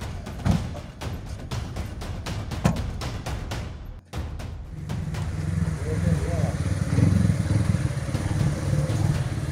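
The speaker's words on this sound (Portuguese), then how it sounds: "Essa é a motocicleta sendo conduzida pelo policial." Clattering impacts give way to a motorcycle engine, ridden by a police officer, running at moderate distance, its rough drone steady under background street noise.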